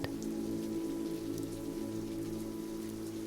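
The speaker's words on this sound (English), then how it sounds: "as the rain pelts on skylights overhead." Steady rain pelts on overhead skylights at night, a continuous dense patter with a low drumming undertone, close and even throughout with no voices.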